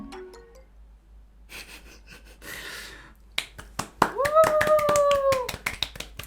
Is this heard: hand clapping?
yes